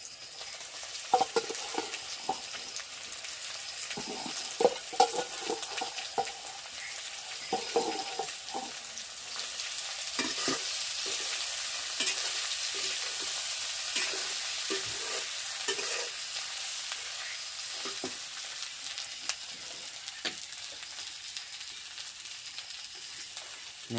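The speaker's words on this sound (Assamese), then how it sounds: "আলুটো এটা দি পিনি অলপ ভাজিব লাগিব" Potatoes fry in a pan with a steady sizzle, while repeated scraping stirs come at an uneven rhythm, close and clear throughout.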